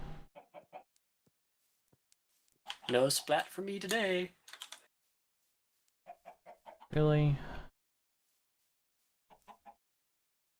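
Minecraft chickens cluck in a few short bursts around someone talking, with keyboard typing clicks scattered through the quieter stretches.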